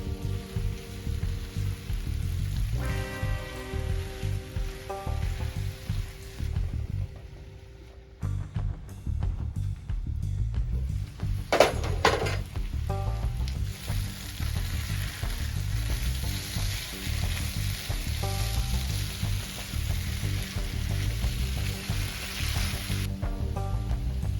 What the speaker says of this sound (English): After a couple of minutes, I mix the potatoes around, cover again, and cook for another 2 minutes.